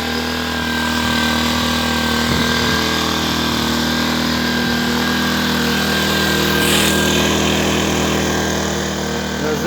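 A Zipper 1100 generator engine runs close by, keeping up a loud, even, rumbling drone from start to finish, with a few faint knocks underneath.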